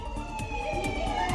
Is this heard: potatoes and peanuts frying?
no